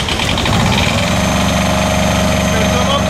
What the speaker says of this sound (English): we can start our engine.